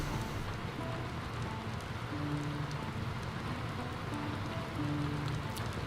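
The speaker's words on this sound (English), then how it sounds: "The rain is still coming down. We can hear it on the roof." Steady rain patters on a roof in the video game Skyrim, an even, moderate hiss of drops that runs continuously with faint low tones beneath.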